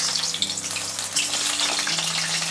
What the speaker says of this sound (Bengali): এখানে আমাদের তেল গরম হয়ে গেছে, এবার আমি এক এক করে সবজিগুলো ভেজে নেব